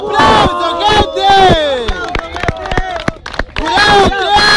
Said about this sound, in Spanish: ¡Aplauso, gente!